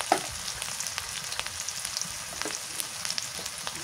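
Onion paste and chili paste fry in a pan with a quiet, steady crackle of small pops and spits at close range, without any voices.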